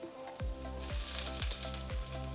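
Prawns frying in a hot pan for a basil pasta, a loud, steady close sizzle with regular soft low thumps about every half second running underneath, no voices.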